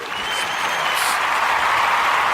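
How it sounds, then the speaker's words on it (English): Steady audience applause from a crowd, continuous and fairly loud across the whole stretch with no talking over it. "Clap for that, John."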